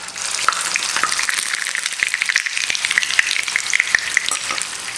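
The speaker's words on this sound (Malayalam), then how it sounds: "ചെറിയൊരു ഫ്ലാറ്റ് പോലെ ആക്കിയിട്ട് നമുക്ക് എണ്ണയിലേക്ക് ഡിപ്പ് ചെയ്യാം" Onion vada frying in hot oil, a bright continuous sizzle and crackle with scattered pops and spits, close and steady throughout with no talking.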